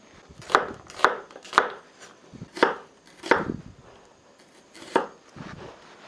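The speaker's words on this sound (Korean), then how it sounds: "양파를 슬라이스로 썰겠습니다." A knife slices an onion on a cutting board in sharp, evenly spaced strokes, about eight cuts with short pauses, close and clear.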